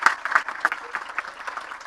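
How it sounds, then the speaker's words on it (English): Brief, fairly close applause from an audience at an International Day for Women in Maritime event in Newcastle, a short burst of clapping with no talk over it. "so round of applause."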